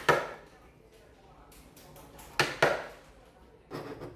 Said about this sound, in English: Now, I'm working on cleaning the edges of the mortise with a chisel